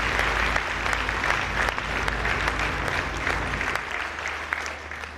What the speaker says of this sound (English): Please give them a big hand of applause.